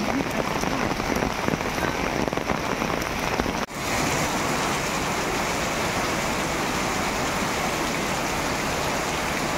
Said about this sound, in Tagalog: Lakas pa ng ulan, oh.